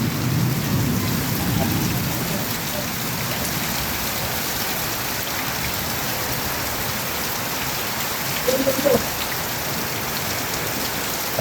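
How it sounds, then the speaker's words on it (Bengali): Dense monsoon rain pours steadily and evenly, close and loud, with a low rumble early on that could be distant thunder and a brief sharper splash near the end; no talking. "কি ধোয়া ওঠা বৃষ্টি!"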